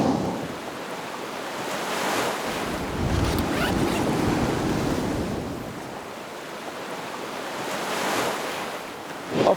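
Ocean waves surge and wash through sea caverns at low tide, a broad continuous roar swelling and easing in slow cycles, with some wind buffeting on the microphone and no voices.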